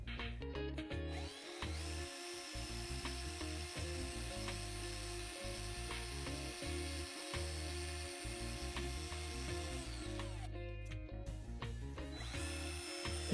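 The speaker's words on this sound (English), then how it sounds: "I run them in my hand drill until they look nice and shiny again." Axles from a 1913 Dodge wreck truck being restored, spun in a hand drill against emery paper: a steady whirring drill motor with a rough rubbing hiss, running continuously with brief pauses.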